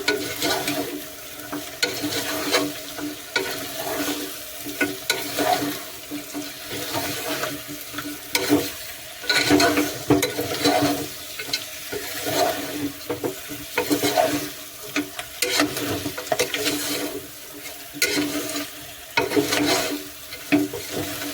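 Goat head curry is stirred in a pan on a gas stove, a steady scraping and sloshing with a soft simmering bubble underneath, close and moderately loud, with no voices.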